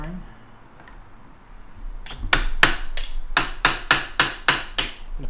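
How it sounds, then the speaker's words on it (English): Hammering during a tire swap on an Inmotion V11 electric unicycle comes as a run of about ten sharp, ringing metallic strikes in a quickening rhythm, loud and close. "More hammering."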